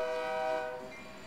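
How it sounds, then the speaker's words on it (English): A train passes a remote desert spot, its horn sounding a loud sustained multi-tone blast that fades as the train moves on, with rumbling rail noise beneath and no talk. "When the train passes, you stop talking."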